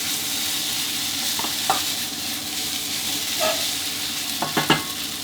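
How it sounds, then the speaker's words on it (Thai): Fried rice with fermented pork sausage stirred in a hot pan, giving a steady sizzle with scattered scraping clinks of the spatula against the pan, loudest near the end. "ผัดคลุกเคล้าให้เข้ากันดีเลยครับ"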